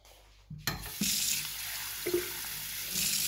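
Water from a glass is poured into a litre of house paint and then stirred, giving a splashy pour followed by wet, sloshing swirls and soft knocks, close and fairly quiet with no talking.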